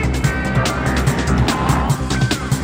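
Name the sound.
Aprilia RSV Factory motorcycle engine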